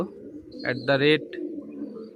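Madrasi pigeons coo in two short rounded bursts close by, followed by a brief faint call over a low steady background murmur.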